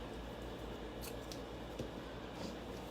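Scissors snip raffia while a sweater pumpkin is being made, several quick faint cuts in an irregular rhythm, close by and quiet over a low steady background hum.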